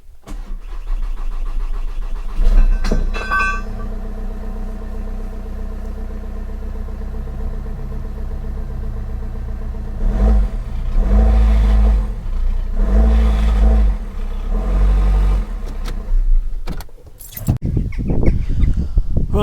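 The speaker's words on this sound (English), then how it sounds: "you would have seen me just test run this engine." A 2014 VW Passat 2.0 TDI diesel engine with no coolant, after a timing belt and water pump replacement, cranks and fires up, then idles with a steady loud clatter and several blips of revving toward the end.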